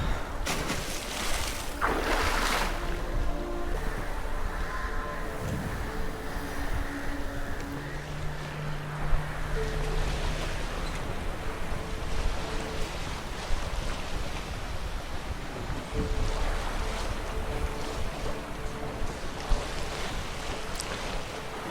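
Ocean waves wash steadily around a moving boat in the video game The Witcher 3: Wild Hunt, a soft continuous surf hiss with faint wind and occasional low tonal hums in the background.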